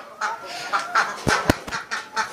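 Ducks, muscovy ducks and free-range native chickens being fed greens, with close, repeated quacking and honking calls mixed with scuffling, pecking and a couple of sharp taps.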